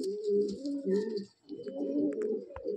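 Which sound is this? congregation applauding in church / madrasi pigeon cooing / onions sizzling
madrasi pigeon cooing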